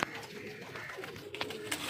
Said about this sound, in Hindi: ये भी टैडी कबूतर है